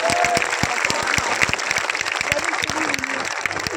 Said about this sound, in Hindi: एक बार जोरदार ताली बजा के आप लोग अपना अपना स्वागत करें।